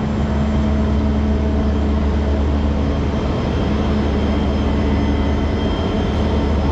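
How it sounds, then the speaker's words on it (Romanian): Two old locomotives hauling a delayed train rumble with a steady, loud low drone and continuous mechanical noise throughout, with no voices. "de ce ar fi fost două locomotive la un tren întârziat?"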